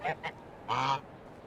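Geese in the video game Medieval Dynasty give three short honks, two quick ones then a longer call, moderately close and fairly faint.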